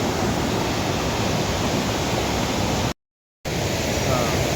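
Jog Falls waterfall roaring as a loud, dense, unbroken rush of falling water, cut to silence for a brief moment midway before resuming.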